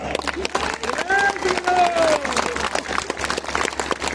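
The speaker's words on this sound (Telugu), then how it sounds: "గట్టిగా ఒకసారి కొట్టండి" A crowd claps steadily throughout, a dense patter of applause, while a voice speaks over it, at a Hindu gathering in Peddapuram.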